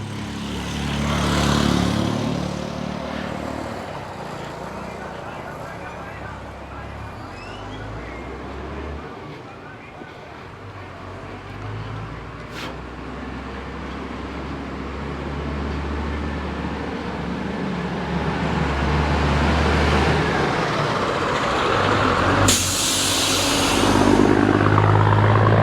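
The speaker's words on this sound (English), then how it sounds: "the chicken bus sounds like it is right behind me" A chicken bus rumbles along a beach road at Playa Las Peñitas, Nicaragua, its low engine drone swelling as it closes in from behind, loud and sustained with a brief horn-like burst near the end.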